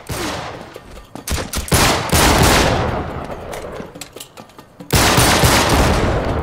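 Shotgun blasts and heavy gunfire in Uncharted 3, close and loud: a rapid cluster of sharp cracking shots, a sustained roar of fire, then another powerful burst near the end.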